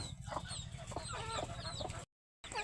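Chickens cluck busily close by while they eat feed made from ground maize. The soft overlapping clucks run continuously, then stop abruptly just before the end.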